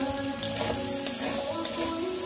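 Pointed gourd frying in a pan with salt and turmeric, a steady close hiss and crackle of oil that runs without a break, with faint stirring.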